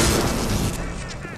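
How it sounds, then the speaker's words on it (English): A shotgun fired in BioShock, a single loud, close blast with a broad burst that decays over about a second, standing alone without talk. "I'm really liking the shotgun now"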